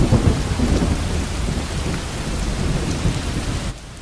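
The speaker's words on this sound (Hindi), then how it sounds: "उसके घर के बाहर बहुत जोर की बारिश हो रही थी" Heavy rain pours steadily outside a house at night, with deep rumbles of thunder rolling through the downpour, loud and close before the sound cuts off abruptly near the end.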